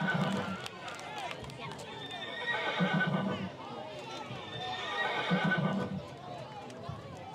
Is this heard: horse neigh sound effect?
yes